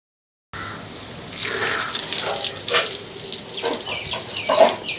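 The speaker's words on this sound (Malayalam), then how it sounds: "ഇനി നമുക്ക് ഇതിൽ വെള്ളം നിറച്ചെടുക്കണം." Water running from a tap into a balloon mixed with detergent, a steady hiss and splash starting abruptly and continuing with slight gurgling changes, no talk.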